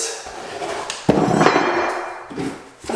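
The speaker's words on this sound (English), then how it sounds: "take your hammer and beat back this way, and it pulls these side joints tight" Several sharp hammer knocks on a wooden floorboard, tightening its side joints, a few irregular blows with a louder strike in the middle, close and alone.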